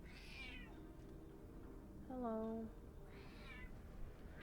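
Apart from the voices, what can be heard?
cat meowing in a video game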